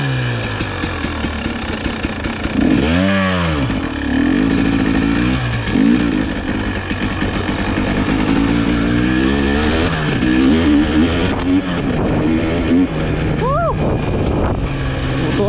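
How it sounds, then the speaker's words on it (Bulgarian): A 2022 KTM 300 EXC two-stroke dirt bike revs on a test ride, its engine rising and falling in sharp throttle blips over a constant drone, with wind buffeting the microphone and brief talk partway through. "Сега ще направим един тигел на мотора, ще го пробваме да видим как върви."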